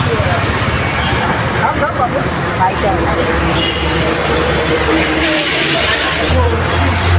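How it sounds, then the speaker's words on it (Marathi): Vehicles passing on a road at night, a steady roar of traffic with engines swelling and fading behind, partly under a person talking nearby. "हे बघा आमच्या मागून गाड्या येऊन राहिल्या"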